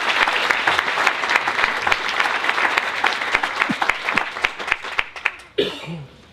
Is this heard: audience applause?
yes